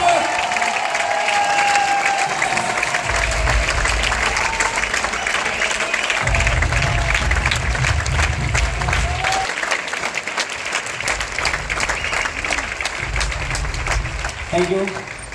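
Sustained loud applause with scattered cheering from a large audience at a business event, welcoming guest Mudrika Gop onto the stage, a steady wash of clapping running the full length with some voices mixed in.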